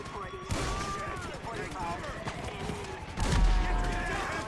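Weapons fired inside a military camp in the GTA V video game, a series of sharp gunshot bursts with a heavier blast near the end, loud over steady game background and a talking voice.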